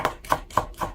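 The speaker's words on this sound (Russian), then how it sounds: "Зеленый лук режу мелко, использую только нижнюю часть стебля." A knife finely chopping green onion stalks, using only the lower white part, on a cutting board: four evenly spaced, crisp blade strikes in a steady rhythm, close and fairly loud, with no talking.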